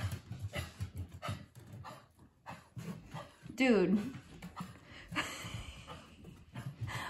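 Dogs pant indoors, with quick breathy huffs and a short whimpering whine partway through, heard close beside a person's casual talk and footsteps around the house.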